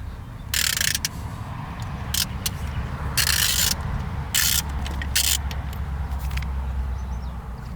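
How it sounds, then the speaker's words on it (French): Bursts of ratcheting clicks from a ratchet turning a long 16 mm socket on an extension, loosening spark plugs deep in the wells of a Peugeot 205 GTI engine, close and intermittent with pauses between strokes. "Donc une douille longue de 16 avec une rallonge pour aller les chercher au fond du puits."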